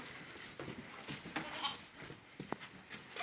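Sheep on a livestock farm bleat repeatedly in short, fairly faint calls amid barn noise, some distance off, with occasional voices nearby.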